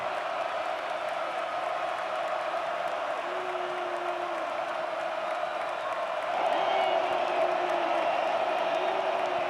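Football stadium crowd at a Pittsburgh at Cincinnati college game, on its feet for a two-point conversion try, a steady distant roar that swells louder near the end, with faint commentary voices underneath.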